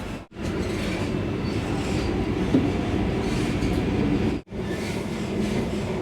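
The Puri–Howrah Vande Bharat Express pulls out of Balasore station: a steady, close rumble of wheels and carriage noise runs continuously, broken by two brief cuts to silence.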